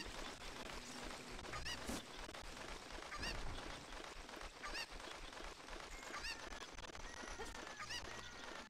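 A chicken clucks and squawks in the video game Ocarina of Time, with repeated harsh calls over a dense, constant bed of game noise.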